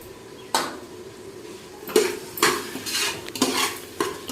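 Mushroom biryani masala with coriander and mint being stirred in a pot: several sharp scraping strokes in an uneven rhythm over a low sizzle, close by, with no speech.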